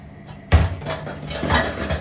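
Plates and dishes clattering while being washed at home, a sharp clank of crockery followed by further knocks and scraping rattles, close by with no talk.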